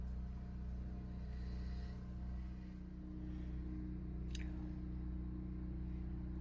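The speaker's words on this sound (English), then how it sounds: "Sorry about the generator noise in the background" Generator running steadily in the background at a rural home, with a constant low, droning hum at a steady level and a brief faint chirp partway through.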